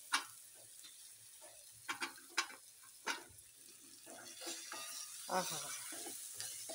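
Tomatoes added to onions frying in a pan for a Marathi pumpkin bhaji, a soft steady sizzle with several sharp clinks and stirring scrapes; a brief exclamation from a voice.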